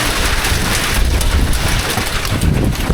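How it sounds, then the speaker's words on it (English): Hail and rain beat down outdoors in a storm as a loud, continuous wash of hiss and patter, mixed with gusting wind buffeting the microphone. "We're getting some hail as well."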